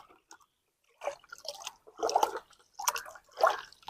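Liquid fertilizer being stirred into water for mango trees, heard as a few short wet sloshes and drips in quick bursts, close by with pauses between them and no voices.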